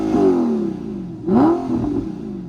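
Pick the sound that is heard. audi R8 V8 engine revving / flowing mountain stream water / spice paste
audi R8 V8 engine revving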